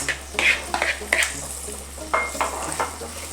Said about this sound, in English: So now we will add these fried bitter gourds into this.